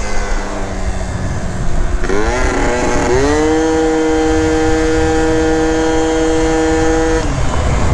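A 70cc Zuma scooter with a Minarelli engine and Stage 6 CVT revs up loud and close, its engine whine rising in pitch in two steps and then holding steady as it shifts, with no voices.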